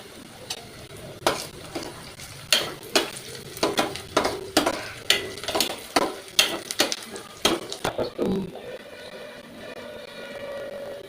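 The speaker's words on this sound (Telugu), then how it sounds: "ఇట్లా గోల్డ్ కలర్ వచ్చే వరకు మనం ఆనియన్స్ వేయించుకోవాలండి" Onions frying in a pan until golden for a Telangana-style mutton boti fry, with repeated sharp stirring scrapes over a steady sizzle, then the sizzle continuing alone near the end.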